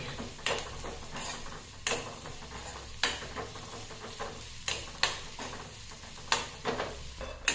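Grated coconut dry-roasting in a pan for onion and drumstick sambar, with a soft continuous crackle and sharp periodic scrapes and clacks of a spatula stirring against the metal, close and alone without talk.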